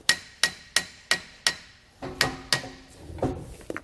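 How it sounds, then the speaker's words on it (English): A hammer lightly tapping a brake caliper into its bracket during a Kodiak disc brake install on a 2020 Jayco Pinnacle trailer: sharp metallic taps, about a dozen, evenly spaced at first and then irregular, close and clear. "took a hammer, just lightly tapped it the rest of the way into place so everything will line up"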